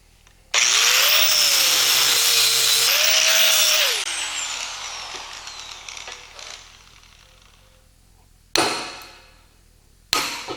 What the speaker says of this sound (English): So I like to go very carefully with the cutting wheel.